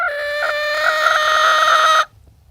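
A hen gives one sustained, harmonic squawking call lasting about two seconds. It is close and fairly loud, then cuts off into quiet.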